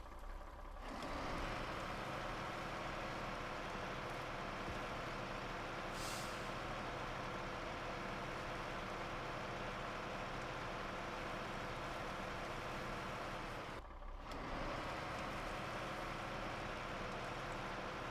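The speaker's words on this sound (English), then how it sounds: "This truck does an awesome job hauling these logs." A log truck hauling a load of logs, its engine a steady loud drone throughout, with a brief air-brake hiss and a short dip in the noise, no talk.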